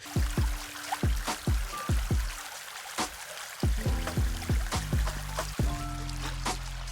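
Water trickles and splashes close by with repeated irregular plops and drips over a steady running flow, with no voices.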